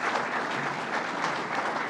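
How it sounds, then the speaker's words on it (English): A crowd applauds state assembly members at a governor's transportation announcement, a steady wash of clapping from many hands at moderate volume, continuous and without pauses or voices. "Assembly members Pat Fahey and John McDonald, why don't you all stand up and take a round of applause here for all of you"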